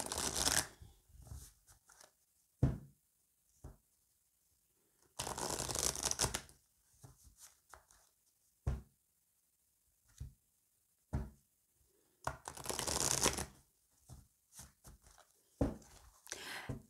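Tarot cards are cut and riffled close by in soft, papery bursts, two longer shuffles among scattered taps, slides and handling noises, quiet and intimate with no talking.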